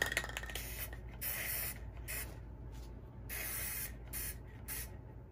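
Sealant spray hisses onto a heart-shaped ring box in several short bursts of varying length, close and steady, separated by brief pauses.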